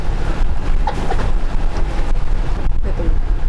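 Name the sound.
waves pushing against boat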